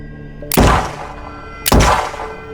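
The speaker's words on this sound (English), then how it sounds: "He smashes his shoulder into the front door of the structure." Two heavy, booming thuds ring out about a second apart as a shoulder smashes into the front door of a structure, each with a short resonant tail, loud and close.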